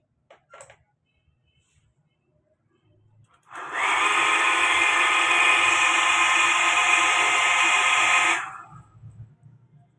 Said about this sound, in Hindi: मैंने लाल पंप चलाया हुआ था, ये शोर आ रहा होगा